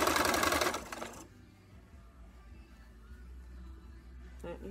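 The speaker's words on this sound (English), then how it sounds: "We're sewing all the blue ones." A sewing machine stitches pieces of blue fabric, running loud and fast up close for about a second before stopping, leaving a low hum, then a brief burst of stitching starts again at the end.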